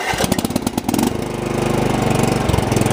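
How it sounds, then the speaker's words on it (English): A Craftsman R1000 riding lawn mower engine is revved up from a choppy sputter into a steady, loud, close-up drone that holds at high speed. "we'll go ahead and gun the engine up here"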